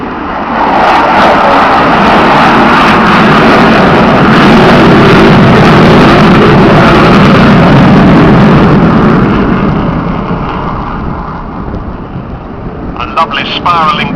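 An Avro Vulcan bomber flying a spiralling climb at the Air Tattoo 2010 airshow produces a loud, sustained jet roar that swells and then slowly fades, with a voice briefly heard near the end.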